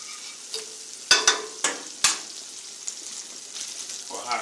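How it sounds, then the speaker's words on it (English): Food sautés in a hot pan with a steady, bright sizzle, broken by a handful of sharp stirring scrapes and knocks in the first half before settling into an even hiss. "Let it saute down."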